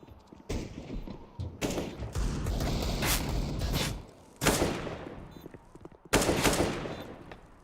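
Counter-Strike gunfire at a pro match, in loud bursts of rapid shots: a long run of fire early on, then two sharp separate volleys near the end, with quieter gaps between.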